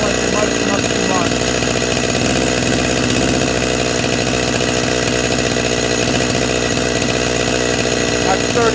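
Holzfforma G255 chainsaw engine running loud and steady at high revs while its carburetor is tuned, a dense continuous buzz filling the whole stretch.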